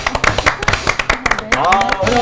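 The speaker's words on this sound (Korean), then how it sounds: "박수로 모시겠습니다" On a TV talk show set, a small group gives a few quick, scattered claps to welcome a guest, and a voice then takes over as the clapping fades.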